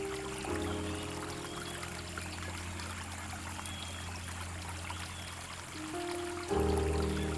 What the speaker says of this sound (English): The Malanza River flows through southern Sao Tome, offering a tranquil experience for nature lovers.